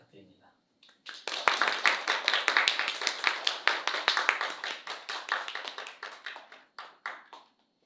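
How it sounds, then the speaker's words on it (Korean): A church congregation claps together during a Sunday worship service, a dense burst of many hands that swells quickly, holds steady for several seconds, then thins out into scattered final claps. "나오실 때 우리 큰 박수 부탁드립니다."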